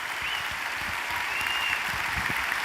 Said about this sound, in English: give us a big round of applause right now, guys